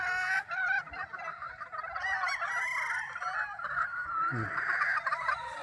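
Pullets calling and clucking on a hillside farm range, San Pablo White chickens, a busy continuous flock chatter near and far with a brief low honk-like call near the end.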